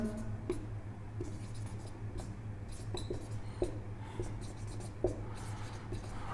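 Marker or chalk strokes on a board as a chemistry teacher writes out a haloalkane compound, soft scratchy taps and short squeaks recurring irregularly under a low steady room hum, fairly faint.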